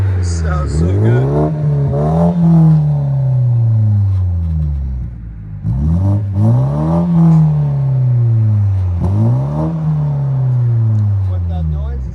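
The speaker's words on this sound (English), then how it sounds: "What that noise is the valve opening and closing." Turbocharged 2023 BMW 330i with a muffler delete rumbles loudly up close, its exhaust swelling and dropping in three long revving surges with a rasping, throaty edge as the valve opens and closes.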